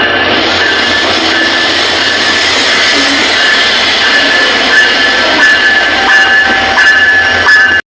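The Barendra Express, a passenger train on the Rajshahi route in Bangladesh, pulls into a station with a loud, steady rumble and a hiss of wheels and machinery throughout, with thin tonal squeals rising above it.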